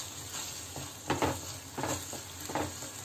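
A semolina mixture cooking in a pan with tomato and chilli sauce: a faint low sizzle broken by three soft scraping stir strokes, close and quiet, with no speech.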